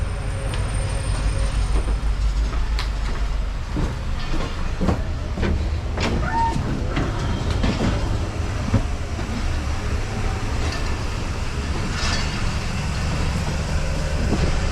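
The Mohenjo-Daro passenger train of Pakistan Railways, old conventional coaches, runs with a constant heavy low rumble and scattered clanks and rattles from the wheels and carriages, loud and close throughout.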